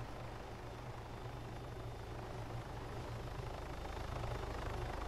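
A roleplay video game helicopter, its rotor thudding in a steady low pulse with engine whine, holds loud and constant throughout with no talk over it.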